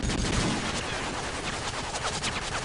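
Gunfire from the video game Modern Warfare 3 rattles out as dense, continuous bursts of rapid shots, loud and close throughout with no pause.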